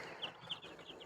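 Baby chickens on a backyard farm, with a heat source, give three thin, high peeps, spaced evenly and moderately close, over a steady low background hum.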